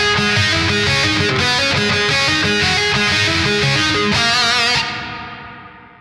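Distorted electric guitar in drop tuning plays a chugging rock/metal riff with steady palm-muted low notes and higher melodic accents, loud and alone, then a final chord rings out and fades.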